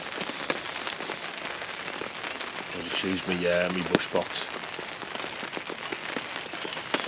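Steady rain patters on a surface close by in the woods, with scattered heavier drops, while a person talks briefly in the middle.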